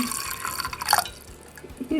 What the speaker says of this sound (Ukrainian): Знову ж таки заливаю водичкою, пляночкою води